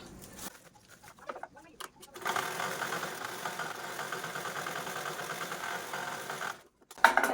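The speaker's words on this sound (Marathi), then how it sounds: "इकडनं पण मी हा जो ओपन पार्ट आहे तो स्टिच करून घेते" A domestic sewing machine stitches the open part of a fabric bag: a few short hesitant bursts, then a steady close whirring run of rapid needle strokes for about four seconds, ending in a brief stop and restart.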